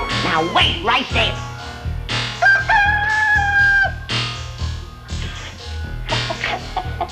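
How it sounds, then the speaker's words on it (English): A chicken clucks and squawks loudly in a comedy television scene, a series of close, uneven calls with one sustained higher cry, over a noisy indoor background. "It's a pushy chicken."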